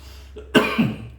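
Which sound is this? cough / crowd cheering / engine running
cough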